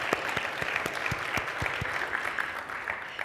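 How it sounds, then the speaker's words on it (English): An audience at a talk on turning ideas into action gives a sustained round of clapping after a pitch-writing exercise; the steady crowd applause has a few heavier individual claps standing out near the front. "a big round of applause for everybody here."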